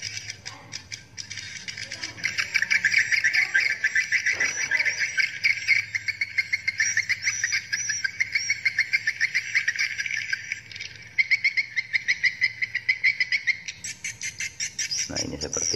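Recorded bird mating call played back through a speaker, a dense rapid chirping trill repeated steadily and fairly loud, with brief pauses between bursts and a faint voice underneath.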